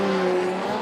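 A BMW F22 M2 drift car at a Drift Masters qualifying event in Italy, handbrake pulled, its tires squealing in a steady sustained screech over loud engine noise, close and continuous for under a second.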